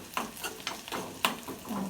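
Food frying in a pan in a home kitchen, heard as soft, fairly quiet sizzling broken by several brief stirring clinks and scrapes at an uneven rhythm.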